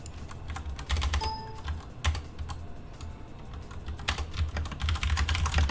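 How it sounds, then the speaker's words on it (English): Computer keyboard typed rapidly during a League of Legends match, keys clattering in bursts close to a nearby microphone, loud and continuous with short pauses. "My keyboard volume is loud because it is near my microphone."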